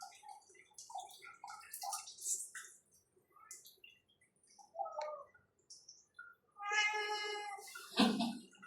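A cat being showered with water gives a loud, drawn-out meow near the end, after a series of softer scattered chirps and squeaks.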